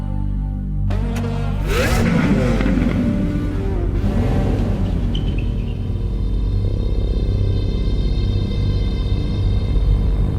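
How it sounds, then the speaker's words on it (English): Naturally aspirated V12 of a Lamborghini Aventador LP780-4 Ultimae fires up with a sharp rev flare, then settles into a loud, steady idle rumble close by, alone without talk. "Our naturally aspirated V12 and the Aventador prove this once more."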